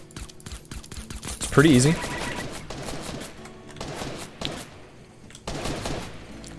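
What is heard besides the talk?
gunshots in the video game Fortnite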